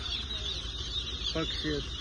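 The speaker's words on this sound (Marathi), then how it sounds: "पक्षी म्हणजेच आम्ही पक्षी म्हणतो, कोंबडीचे पिल्ल छोटे छोटे." A dense chorus of small chicks at a poultry farm chirps continuously in a high pitch, with a short stretch of nearby voice or clucking partway through.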